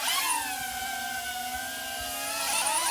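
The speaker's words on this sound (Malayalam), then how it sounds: "നമ്മൾ നിൽക്കുന്ന ഏരിയക്ക് വീണ്ടും ഡ്രോൺ എത്തുന്നുണ്ട്." A small quadcopter drone returns to hover close by outdoors, its loud, steady rotor whine filling the scene with slight pitch shifts as it approaches.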